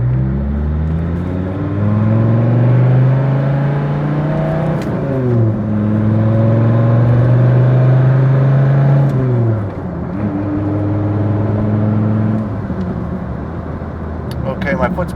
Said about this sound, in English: Well, that V10's making an awesome sound.